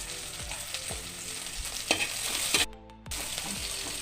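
Onion and tomato fry in a pan for a Chinese potato (koorka) curry, with a steady close sizzle and the scrape of a spoon stirring. The sizzle drops away briefly, then resumes.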